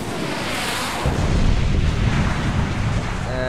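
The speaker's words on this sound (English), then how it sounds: "Initial bombardment of the museum has been completed." Artillery shells pound a museum in Batman: Arkham City with heavy, rumbling booms. Deep, sustained thunder-like roaring swells after the first second and stays loud and steady to the end.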